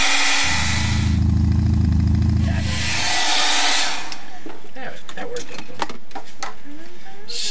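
A dryer blows on ink on an art journal page with a loud, steady whir for about three seconds, then cuts off, leaving quieter handling and tapping sounds.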